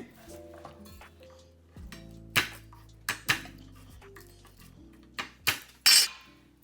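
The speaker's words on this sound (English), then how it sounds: "Give it a smash, it's easier to peel this way." Several sharp knife strikes smash garlic cloves on a kitchen board for mapo tofu, landing as distinct loud thwacks a second or so apart among softer handling clatter.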